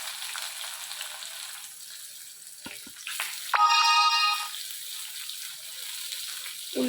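Onions and curry leaves go into hot oil already seasoned with cumin, a faint, steady sizzling hiss that runs throughout, briefly interrupted midway by a short electronic ringing tone.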